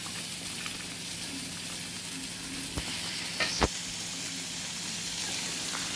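Mutton curry with papaya cooking in a pan, giving a steady low sizzle and bubbling throughout, with a couple of brief clinks or stirring knocks near the middle.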